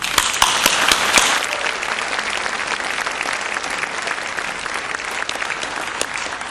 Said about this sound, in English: partnered in 2009 and 2010 with Victoria University, which I think deserves a round of applause